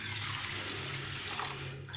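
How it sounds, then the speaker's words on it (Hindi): Water runs steadily over soaked urad dal in a bowl, a continuous close splashing and pouring with no talk, as the loose husks are rinsed off while making Punjabi vadiyan. "बस ऊपर से ये पानी लेना है।"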